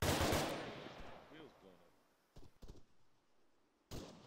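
Automatic gunfire rattles in a military combat video game: a loud opening burst, then two short choppy bursts and a final sharp volley, with a brief muffled voice in between.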